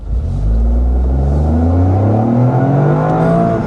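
A 2025 Toyota GR Corolla with automatic transmission accelerates hard on a racetrack, its engine note climbing steadily in pitch through rising harmonics, loud and close with no talking.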